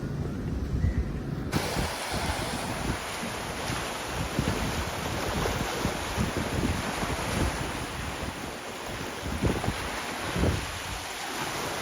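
Wind blows hard across Al Sawadi Beach in Oman at midday, a loud, rumbling gusty roar buffeting the microphone, with surf noise mixed in, continuous and close.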